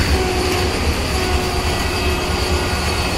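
A Vande Bharat Express train passes along the Daund-Manmad line near Kanegaon station, a loud steady rumble of railcars and wheels on track that fills the scene throughout with no talking.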